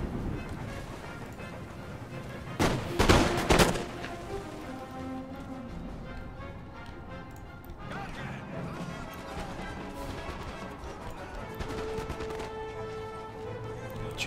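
Musket fire from an 18th-century battle in Empire Total War, with a loud crackling volley early on, then scattered distant shots under battlefield ambience.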